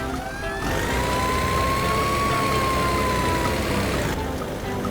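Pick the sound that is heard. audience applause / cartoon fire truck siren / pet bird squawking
cartoon fire truck siren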